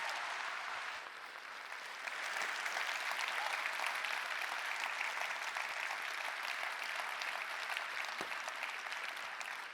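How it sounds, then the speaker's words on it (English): An audience at the Nelson Mandela Lecture applauds a speaker, sustained clapping from a large crowd that swells after a couple of seconds and holds steady, heard from a distance without talk. "a big round of applause for the person who's giving it"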